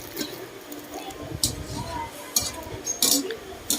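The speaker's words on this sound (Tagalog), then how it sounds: "Yan, hinahalo-halo ko." A utensil stirs mussel adobo in a pot, with a few scattered metallic clinks and scrapes against the cookware over a quiet background, and a voice talking alongside.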